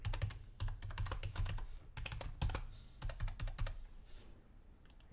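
Rapid, fairly close keystrokes on a computer keyboard as a password is typed, in quick bursts with brief pauses and no talking.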